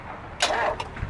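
A car ignition key is turned in a failed start attempt, giving a short mid-loud click and whir that lasts under half a second, followed by a fainter brief tick, with no engine catching.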